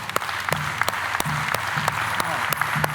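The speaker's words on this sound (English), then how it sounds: "You can clap your hands." A church congregation clapping during worship, steady applause-like clapping with sharp rhythmic hand claps standing out over a murmur of voices or music.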